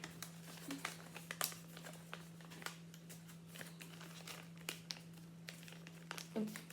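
Origami paper being folded in half and creased while making an origami cube, giving a run of soft crinkles and sharp crackling rustles close to the microphone over a steady low hum, with no talk.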